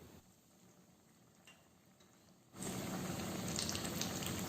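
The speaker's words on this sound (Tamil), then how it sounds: "இப்போது கட்லெட்டெல்லாம் அதில் போட்டுட்டு டீப் ஃப்ரை பண்ணிடலாம்." Vegetable cutlets go into hot oil for deep frying: near-silence at first, then an abrupt loud bubbling sizzle that holds steady to the end.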